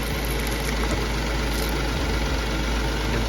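Warm car engine idling during a blown head gasket check, a steady low rumble with a constant hum that holds even throughout, no talk.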